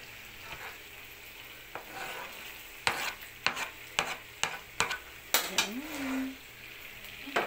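Garlic frying in a pan for spicy chicken wings and liver adobo: a steady soft sizzle broken by a series of sharp scraping clinks as a utensil stirs against the pan, with a brief voice partway through.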